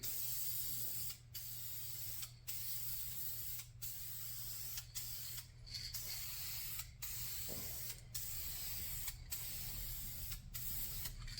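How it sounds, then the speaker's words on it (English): Aerosol spray paint in Metalcast yellow hisses onto car fog lights in a long, steady, close spray, broken by brief regular pauses and a faint mechanical hum underneath. "let's go ahead and go coat number 2"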